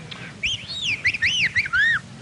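A voice imitates the mating call of a fictional Australian web-footed whangdoo bird, a series of high warbling, swooping whistles that rise and fall over a faint room background.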